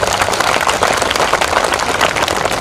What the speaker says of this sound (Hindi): एक बार इनके सम्मान में जोरदार तालियां बजाएं आप सभी